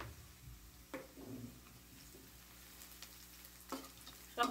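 Turmeric and chili powder frying in a pan of oil as a lentil-free dal is cooked, a soft steady sizzle broken by a few scraping stirs and one louder clatter near the end, with no talk.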